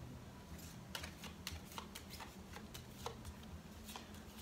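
Cards for the board game ISS Vanguard are shuffled at a table, a quiet, fast run of light papery riffles and clicks with scattered sharper snaps over a low background hum.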